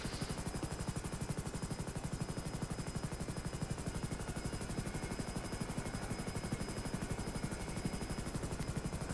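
Game-engine rotor sound of a modded NH-90 German Bundeswehr military helicopter in GTA V, a loud, continuous rapid blade chop with steady turbine whine, close and unbroken throughout.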